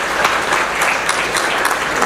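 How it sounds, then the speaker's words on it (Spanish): Audience at a cost-strategies event applauds the speakers, a steady dense wash of clapping throughout at moderate loudness with no voices. "Un aplauso para todos ellos."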